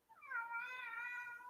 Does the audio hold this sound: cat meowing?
yes